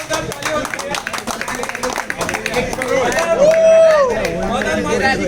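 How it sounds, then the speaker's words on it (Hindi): Audience applause and scattered clapping at a cricket player auction for a local league's third season, steady and moderately loud, with an announcer talking and crowd chatter mixed in throughout. "एक बार जोरदार तालियां होती है"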